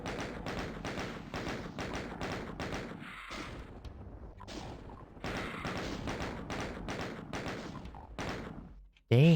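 Rapid gunfire and thudding hits sound in Doom 2 as a sniper shoots the player. The shots come as a dense, rhythmic barrage of loud repeated bangs with brief gaps, and a voice speaks intermittently over them.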